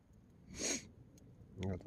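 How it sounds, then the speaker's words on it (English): Two quiet sniffs from a person with the sniffles while camping solo in sub-zero winter cold, close and soft, with a short pause between them. "I got the sniffles."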